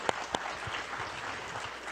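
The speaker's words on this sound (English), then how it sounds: "you've got a cheering section over there" Audience applause at a panel event on community safety as a sheriff is introduced, a steady wash of clapping from a crowd with a couple of sharp nearby claps at the start, no cheering voices standing out.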